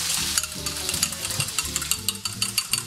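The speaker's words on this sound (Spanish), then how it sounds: "A batir los huevos." Eggs being whisked in a bowl for a leftover tortilla, a fast steady clatter of quick rhythmic strokes up close, with no talking.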